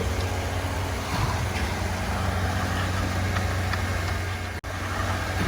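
A concrete vibrator motor drones continuously with a low rumbling hum and broadband rattle, unchanging throughout, with one brief dropout near the end.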